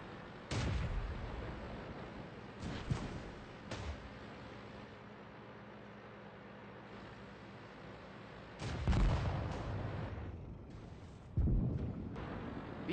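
Artillery fire in the World of Tanks video game: several loud booming shots with rumbling decay, separated by quieter stretches of low battlefield ambience.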